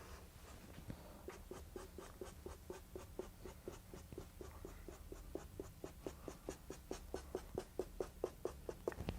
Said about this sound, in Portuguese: Vou desenhar a minha corda aqui com um certo movimento.